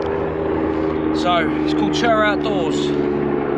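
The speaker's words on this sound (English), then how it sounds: "Sorry about the noise, we're not far from an airport, so some helicopters going over." Helicopters pass over near an airport beside a Kent woodland campsite, a steady engine drone rumbling beneath someone talking close by.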